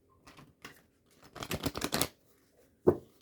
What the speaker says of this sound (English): See that I am shuffling them.